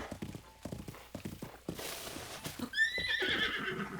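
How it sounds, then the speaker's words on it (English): Zelda's horse in the video game The Legend of Zelda: Breath of the Wild, with a rhythmic clip-clop of trotting hooves followed by a close, loud, high neigh at the end. "That right there is Zelda's horse."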